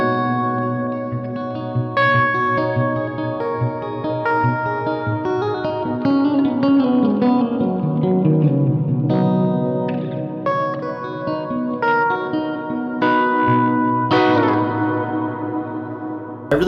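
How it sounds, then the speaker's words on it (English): An electric guitar plays through a Universal Audio Golden Reverberator reverb pedal. Picked notes and chords ring out with a long, lush reverb tail that washes and overlaps, loud and close, with no talking. "reverb. And the golden reverberator from Universal Audio in particular."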